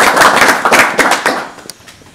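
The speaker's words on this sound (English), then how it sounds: "Terrell Martin, big round of applause" A group gives Terrell Martin a round of applause after the men's team beat Radford, with loud, close, dense clapping for about a second and a half before it thins out and stops.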